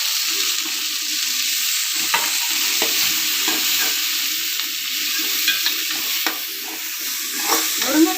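Ginger, garlic, onion and fennel seeds sautéing in a pan for a drumstick koottu, with a steady soft sizzle broken by repeated scraping stirs of a spoon against the pan.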